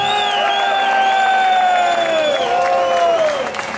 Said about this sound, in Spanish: Peço uma salva de palmas para Alejandro Medina.